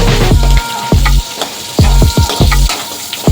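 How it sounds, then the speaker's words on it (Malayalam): Chopped onions sautéing in a hot pan for butter garlic tomato rice, with a steady loud sizzle broken by repeated stirring scrapes and clanks in an uneven rhythm, close up and with no talking. "ഇതിലേക്ക് നമുക്ക് ചെറുതായിട്ട് മുറിച്ച് വെച്ച് സവാള ചേർത്ത് കൊടുക്കാം"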